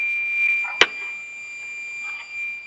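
A multimeter in continuity mode gives a steady high electronic beep that holds through the whole stretch. It is joined by one sharp click near the start.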